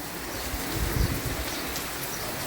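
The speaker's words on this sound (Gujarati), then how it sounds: "જોઈ શકો છો વરસાદ ચાલુ છે." Steady rain falls with an even, hissing patter, heard from nearby with no voices.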